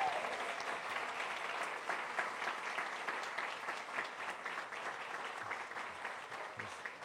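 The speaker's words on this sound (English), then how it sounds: "How about one more round of applause for Miss Whipple from the evening?" A live audience giving a sustained round of applause for Miss Whipple at an evening event, dense steady clapping from many hands that fades slightly over several seconds.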